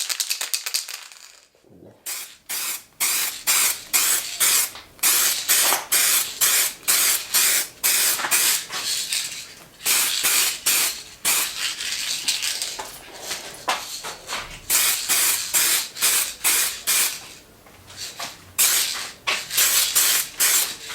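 A spray paint can sprays the first coat onto a vario in repeated short bursts, each a loud close hiss separated by brief pauses, with a faint clink early on.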